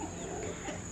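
Chickens and roosters clucking in a backyard, a close, steady burst of fowl chatter over a constant background hum.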